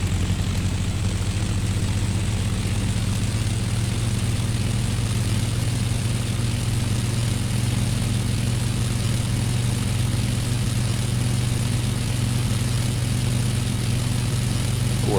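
Supermarine Spitfire in flight, its piston aircraft engine a loud, steady, unbroken drone with deep low rumble and broad propeller roar throughout, close and with no voices.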